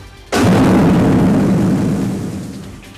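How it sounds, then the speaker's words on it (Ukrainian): A single explosive detonation goes off in a confined test tunnel at a Georgian mining institute, hitting suddenly and loudly and then rolling into a long, booming rumble that slowly fades. "грузинські та американські вчені здійснюють підриви."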